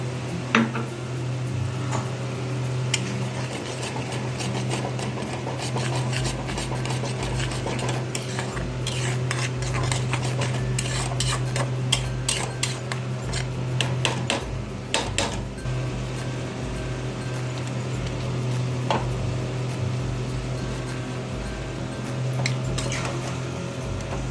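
Boiled Maggi noodles tossed in a pan with red chili sauce, green sauce and tomato ketchup: continuous close scraping and clinking of a utensil with soft wet squishing throughout.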